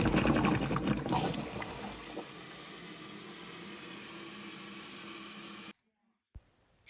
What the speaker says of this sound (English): Now I'm going to flush and try again, because we always double check.